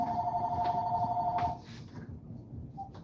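A work phone rings indoors with a steady electronic trill for about a second and a half. It then cuts off, and a quieter room noise follows with one faint short blip.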